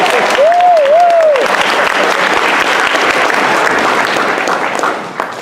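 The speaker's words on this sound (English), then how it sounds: "if you could stand up and clap for her" An audience claps steadily and loudly at a youth board announcement. The applause is dense and sustained, with a brief vocal whoop near the start, and it tapers slightly at the end.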